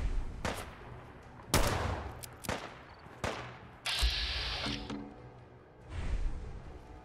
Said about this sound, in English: That's a combat shotgun.